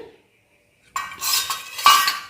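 Plates and serving utensils clatter and clink while home-cooked food, including curry and fried pumpkin, is dished up. About a second of silence comes first, then close, busy handling noise with a louder clank near the end.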